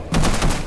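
Two close, loud gunshots ring out in a hectic shooter game, the reports running together into a short burst over a constant rumble, with no talking.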